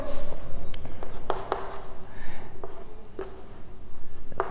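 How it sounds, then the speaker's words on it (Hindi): Chalk or marker strokes on a classroom board as a definition is written out during an organic chemistry lecture, with scattered taps and scratchy strokes over steady room noise and no talking. "तो देखो इसकी डेफिनेशन लिखते हैं अपन"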